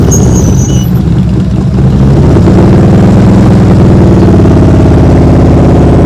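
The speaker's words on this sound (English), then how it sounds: "You hear his throttle go down?" A motorcycle engine during advanced slow-speed riding practice: a loud, close, rumbling low drone whose pitch sinks toward the end as the throttle comes down.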